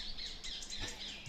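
Parakeets give faint, high squeaky squawks in quick overlapping bursts, with no voices.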